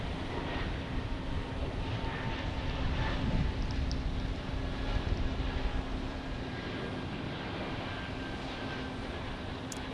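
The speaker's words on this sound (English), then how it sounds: "Airbus A220 aircraft" An Airbus A220 passing at Tampa International Airport, a steady broad jet engine roar with a faint tonal hum, sustained and moderately distant throughout.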